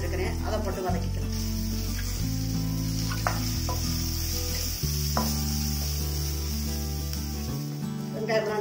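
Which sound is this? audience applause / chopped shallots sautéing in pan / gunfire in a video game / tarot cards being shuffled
chopped shallots sautéing in pan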